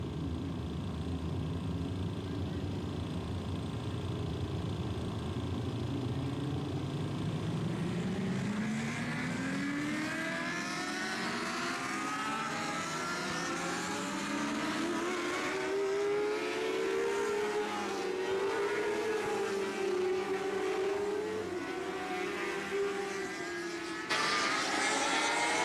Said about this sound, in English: So these are just a few warm-up laps the drivers are doing to generate a little bit of heat in the tires.